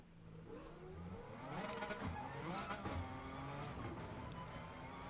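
A Honda-style VTEC engine in the Gran Turismo 7 racing game revving hard on a dirt track, its rising howl climbing and shifting up through the gears, loud and up close.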